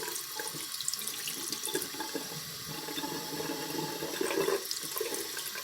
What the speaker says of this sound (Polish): Płuczę ją pod bieżącą wodą